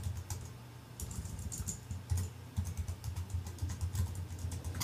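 Rapid typing of a password on a Mac computer keyboard, a close run of light clicking keystrokes in uneven bursts with brief pauses, alone without speech.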